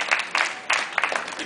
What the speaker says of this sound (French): Et un autre tonnerre d'applaudissements pour Mademoiselle Trouillet, Caroline